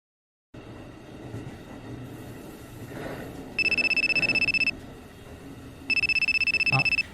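Two bursts of a phone ringtone go off inside a quiet Japanese commuter train, each lasting about a second, loud and close over the steady low rumble of the moving carriage.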